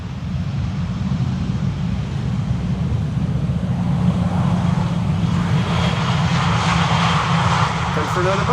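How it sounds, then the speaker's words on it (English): EasyJet airliner arriving from London Gatwick and landing on Schiphol's Polderbaan runway 18R, a steady broad jet engine roar lasting the whole stretch, fairly loud and constant with rising hiss toward the end. "an EasyJet has landed here, arriving from Gatwick."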